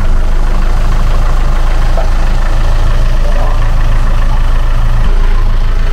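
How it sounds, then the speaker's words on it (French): A boat's inboard engine runs steadily through its first test after maintenance, a loud, close, even low chugging with a constant knocking pulse and no pauses. "18h40, premier test moteur."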